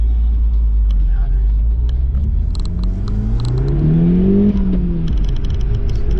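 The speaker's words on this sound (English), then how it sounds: "that little Miltech exhaust, if it's a Miltech I will double check, gives a little bit of a purr" Audi S3 with a Miltech aftermarket exhaust giving a low purring rumble that rises in pitch as it revs, then settles, heard close with faint chatter in the background.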